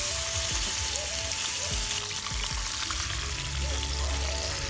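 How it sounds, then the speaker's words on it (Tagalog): Pork chop frying in a pan at an outdoor cooking spot, a steady loud sizzle with crackling spatter and a few knocks and clinks of utensils, no talking. "At ilalagay na natin ang pork chop. Lulutuin na natin."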